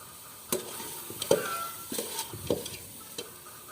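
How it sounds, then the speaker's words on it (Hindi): Chopped capsicum goes into a hot tempering for chicken biryani, stirring up a soft sizzle with a few scraping clicks of a spoon against the pot, quiet and close. "अब हम इसमें जो ना शिमला मिर्च कटी हुई ये डालेंगे।"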